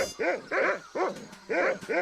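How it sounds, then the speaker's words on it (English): A cartoon dog in the Monkey Island 2 adventure game barks in short, repeated yips, about five close bursts spread across two seconds with brief gaps between them. "I was talking to the dog"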